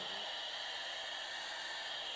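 A vacuum cleaner runs aboard the space shuttle, giving a steady broadband hiss and whir that holds unchanged throughout with no speech.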